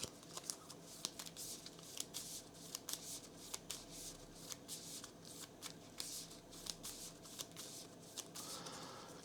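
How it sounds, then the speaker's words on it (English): Playing cards riffle-shuffled back into a deck during a tabletop card game, a rapid run of crisp flutters and snaps repeating steadily throughout, close and fairly quiet, with no talk. "That gets shuffled back into our deck."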